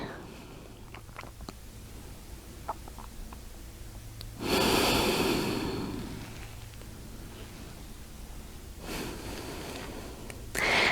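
Deep, steady breaths drawn in and pushed out during a seated inner-thigh yoga stretch, with two louder broadband exhales standing out near and clear against a quiet room.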